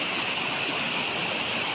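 Spring water flows steadily on a farm lot in Lucban, Quezon, a soft continuous rushing and gurgling at moderate distance with no voices.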